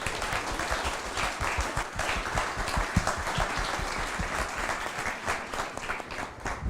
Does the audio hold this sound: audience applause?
yes